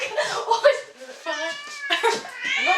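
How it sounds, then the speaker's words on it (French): A house cat meows repeatedly, close and loud, with drawn-out, wavering cries that run almost without a break. "je vire le chat"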